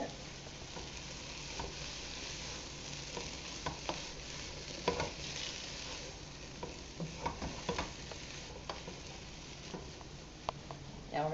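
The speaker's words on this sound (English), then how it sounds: "let's mix this around a little bit." Food stirred in a skillet while making stuffed cabbage, a soft continuous sizzle with irregular scraping and tapping of the utensil against the pan, fairly quiet and without speech.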